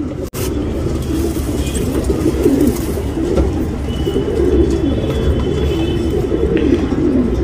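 Tournament pigeons coo in soft repeated throaty calls, several birds close by over a low background rumble, with no talking.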